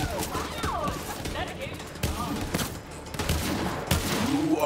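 Rapid gunfire from a weapon in the video game Borderlands 3, repeated shots in quick bursts mixed with game effects and someone talking over the action.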